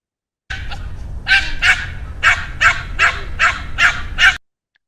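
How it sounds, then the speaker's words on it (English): A dog barks about eight times in a quick, fairly even rhythm, loud and close, with nothing else around it. "So now you have heard the dog barking sound, right?"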